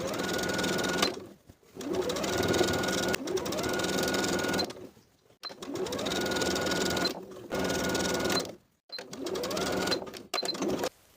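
A sewing machine stitches a blouse neckline seam in several bursts of steady, rapid whirring, each separated by short pauses, close and clear.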